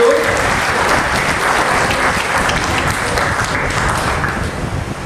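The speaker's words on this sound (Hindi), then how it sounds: "जोरदार तालियां बच्चों।" Children give loud, sustained applause at a school National Sports Day event honoring a rhythmic gymnastics champion, a dense steady wash of clapping that holds for about five seconds before thinning slightly at the end.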